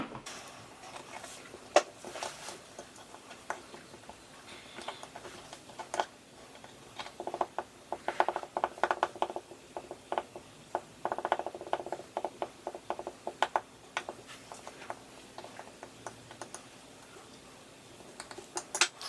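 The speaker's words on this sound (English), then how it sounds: "I'm going to start by crushing this eyeshadow up" Pressed eyeshadow is crushed in its pan with a small tool, making faint, irregular scraping and tapping clicks that come in scattered bursts over a quiet background with no talking.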